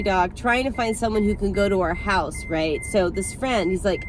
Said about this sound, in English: Sorry for the beeping. It's because I don't have my seatbelt on.